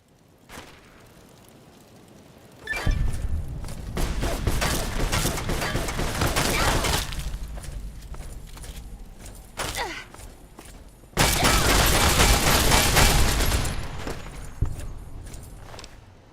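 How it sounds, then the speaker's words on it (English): Submachine gun fire in a Fallout game in close quarters, with sustained rapid bursts, a heavy burst around the middle and another loud burst later, punctuated by thuds. "Close quarters, I'll use an SMG."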